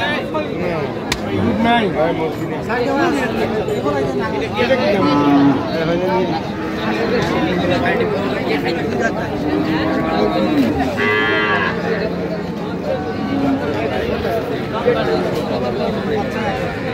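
Cows and calves moo repeatedly at a busy cattle market in Ambari, the lowing rising over a steady crowd babble, with people talking and haggling throughout.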